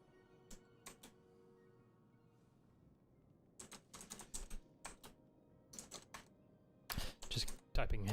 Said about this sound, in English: Just typing a hint to someone in the chat party chat here.